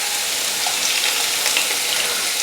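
Onions, peppers, tomatoes and green chilies sizzle in hot oil over medium-high heat, a dense steady hiss close up with no talk.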